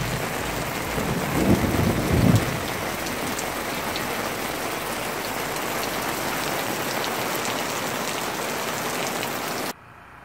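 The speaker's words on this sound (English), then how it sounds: "There is a thunder." Thunder rumbles during a rainstorm at June Lake, a low roll early on over steady, loud rain hiss that continues until the sound cuts off near the end.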